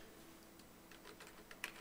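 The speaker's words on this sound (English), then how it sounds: "I'm typing in Bearcat" Quick, light keystrokes on a computer keyboard come in a short irregular run, faint and close, ending with one sharper key hit, with no voices.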